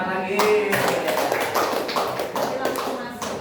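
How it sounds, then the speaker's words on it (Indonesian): A group of people applaud during a school session on positive culture, a fast, dense patter of hand claps with some voices mixed in underneath. "Tepuk tangan lagi."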